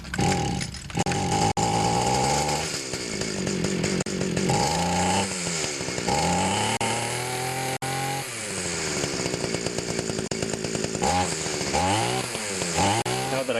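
An ECHO grass trimmer engine runs loud and close while its carburetor is adjusted with the air filter cover off, the buzzing revs climbing and dropping repeatedly throughout.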